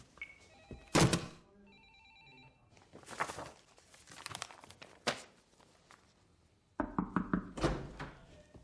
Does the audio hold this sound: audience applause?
no